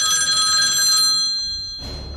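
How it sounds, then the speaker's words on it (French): A mobile phone rings loudly and close with a bright, repeating electronic tone, which cuts off partway through and leaves a brief low rustle. "Mais c'est le téléphone de Raphaël qui sonne non"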